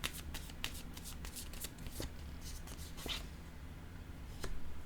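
Oracle cards being shuffled and dealt in a French-language tarot-style reading, a steady run of soft riffling and slapping clicks followed by several crisp taps as cards are laid down, close and alone.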